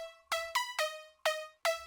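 A Serum synth support-layer lead for a future bounce style track plays five short, bright, plucky notes alone, each with a sharp attack and quick decay.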